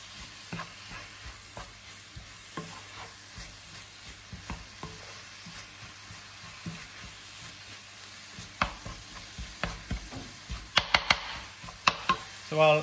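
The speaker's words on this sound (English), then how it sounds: "I'm keeping the heat pretty high. I just want all the moisture to dry up and the vegetables to get cooked." Vegetables and Portobello mushrooms sauté in a pan over high heat, giving a quiet sizzle broken by frequent stirring scrapes and taps that grow busier and louder toward the end.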